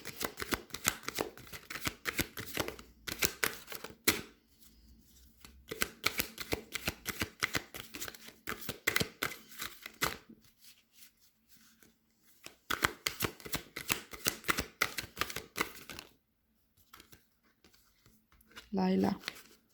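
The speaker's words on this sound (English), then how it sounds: "I'm gonna pull out the Rumi Oracle card for you" Rumi Oracle cards shuffle in repeated bursts of crisp riffling and flicking, each run lasting a few seconds with short pauses between, close up and fairly quiet, and a voice speaks briefly at the end.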